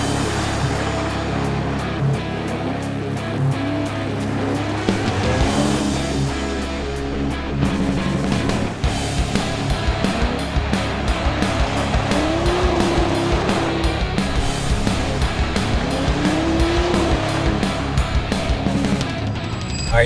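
A BMW races around a wet parking lot, its engine revving hard as tires squeal in repeated rising bursts, close and loud, with skids and shifting engine note throughout.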